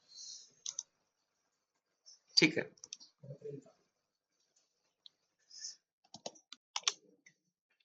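Computer keyboard keys tapped in short scattered bursts during a beginner typing lesson, with sparse clicks and brief pauses, faint and close, mixed with a few short spoken words.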